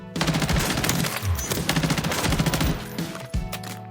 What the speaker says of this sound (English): I'm gonna shoot targets this time.